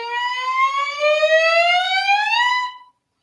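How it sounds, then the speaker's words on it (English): A single bowed fiddle note slides smoothly upward as a finger glides from first position to a higher one, sustained and clear for under three seconds before stopping abruptly. "Just slide your finger from first position to any position that you want"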